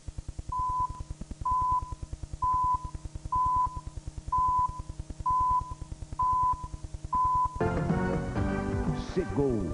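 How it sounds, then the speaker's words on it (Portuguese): A Rede Bandeirantes broadcast timing signal: eight short, evenly spaced, clear beeps about a second apart, followed immediately by loud music starting up. "Atenção, emissoras da Rede Bandeirantes, para o top de 8 segundos."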